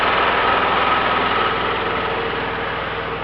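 A newly repaired wood gasifier engine that supplies power to a workshop idles steadily nearby, giving a loud, even chugging pulse with a constant mechanical hum and no voices.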